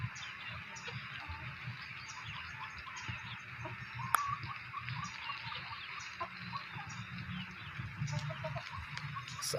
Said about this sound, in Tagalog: Lapit yung mga manok natin.